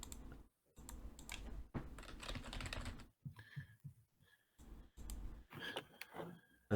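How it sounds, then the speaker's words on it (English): A deck of Magic cards being shuffled quickly during a tournament match: quiet bursts of rapid crisp clicking and riffling separated by short pauses. "That was a pretty quick shuffle."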